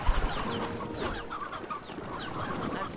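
Chickens cluck repeatedly in the video game Slime Rancher 2, with overlapping bird calls and chirps at close range over a busy background.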